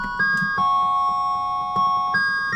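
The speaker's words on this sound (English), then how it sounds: "I did an accidental jump to the bell." An electronic chime sounds in a stepped multi-tone ding-dong pattern, with pitch changes at intervals over low background rumble, no speech.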